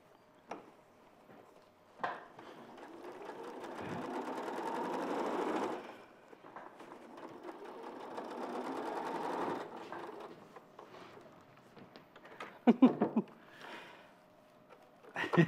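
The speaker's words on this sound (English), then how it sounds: "You keep sewing, Jo. You keep sewing" A sewing machine stitches in bursts, its rapid, even mechanical whir swelling through two long runs and then some shorter stops and starts, with people talking around it in a quiet studio.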